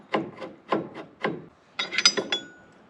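The flutes of a drill bit scrape rust off a small snowmobile engine part, giving a few separate rasping strokes at close range followed by a quicker burst of gritty scratching.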